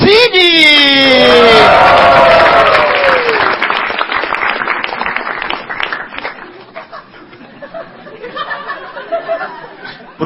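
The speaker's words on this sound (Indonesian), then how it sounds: "Boleh tepuk tangan semuanya" At an Indonesian stand-up comedy show, a crowd bursts into loud applause and cheering with whoops, swelling at first then thinning out as scattered claps and chatter linger; a host's voice rings out early over the noise.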